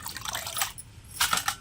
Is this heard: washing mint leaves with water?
yes